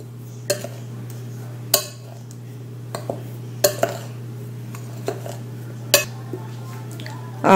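Dry carrot cake ingredients, including cinnamon, baking powder and baking soda, stirred in a bowl, giving sharp utensil clinks and scrapes at irregular intervals over a steady low hum.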